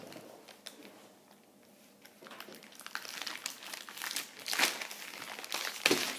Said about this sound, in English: So now I'm going to be opening this. Be cutting the tape.